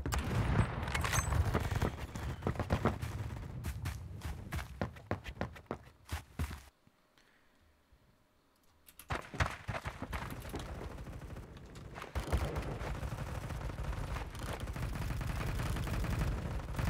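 Gunfire from a BFG-50 sniper rifle in the online shooter Phantom Forces, heard as dense, clattering game-combat noise with footsteps and impacts that briefly drop away before resuming.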